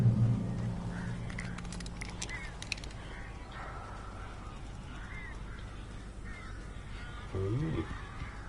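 Crows cawing in the horror game Alan Wake, a flock of birds swarming around, with harsh calls scattered through a busy ambient game soundscape and a low rumble near the end.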